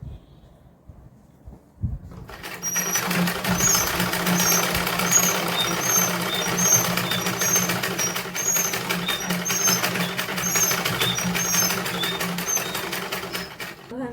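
A sewing machine stitches a salwar seam, running in a steady, continuous mechanical whir with a fine rhythmic clatter after a short quiet start.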